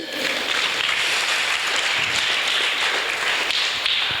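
A church congregation applauds and cheers during a Sunday service, a dense, steady wash of clapping and voices that holds loud and unbroken throughout.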